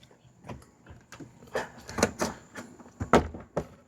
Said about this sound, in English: You'll hear those pops, that's normal, that's just those things coming out of the socket